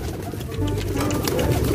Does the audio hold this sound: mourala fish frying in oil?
no